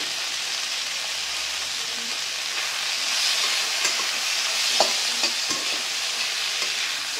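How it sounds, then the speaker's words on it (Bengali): Chopped chillies and other ingredients for a Bengali tengra fish curry being stirred and fried in a pan at home, a steady close sizzle with occasional scrapes and clinks of the spatula against the pan. "সব কিছুকে আমি একই সঙ্গে খুব ভালো করে নেড়ে চেড়ে ভেজে নেব।"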